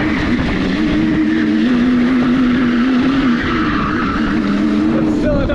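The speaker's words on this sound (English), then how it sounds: "Tires got sticky, it's just flinging up so many rocks right now." A 100HP electric drift kart on high-speed gearing sliding loose, its sticky tires flinging up rocks; a steady loud whine over continuous gritty spray and scrabbling, close and unbroken throughout.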